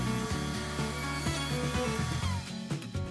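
A router bit cuts a rabbet into a wooden box lid, giving a steady, close high-pitched tool whine with a harmonic buzz and rhythmic shifts in tone as the cut advances, without speech.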